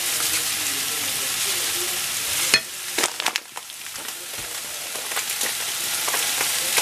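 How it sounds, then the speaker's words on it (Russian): Cane sugar and pastry filling fry in a pan on a stovetop, a steady loud sizzle broken by several sharp scrapes and knocks of a spoon stirring, then settling back into the hiss. "И обжариваем дальше."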